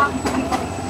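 A moving passenger train in Bangladesh rumbles and rattles as heard from up on its roof, with a steady wash of rolling noise and faint clatter throughout the short stretch.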